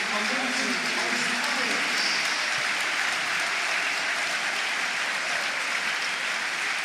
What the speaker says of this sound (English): Gets applause on his way.